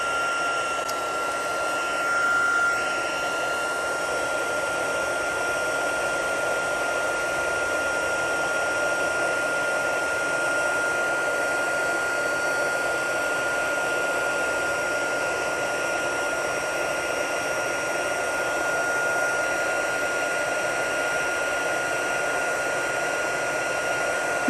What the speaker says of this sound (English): Take my heat gun. It doesn't fit in the camera very well, so I'll do the best I can. It's kind of noisy.